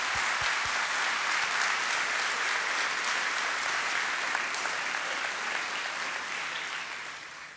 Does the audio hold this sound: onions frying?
no